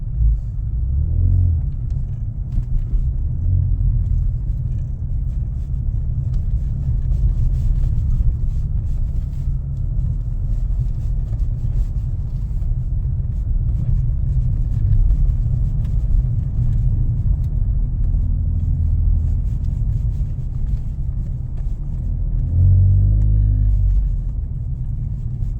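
A car drives steadily along a road toward a property, its engine and tire rumble loud and close, holding a constant low drone with a slight swell near the end and no voices.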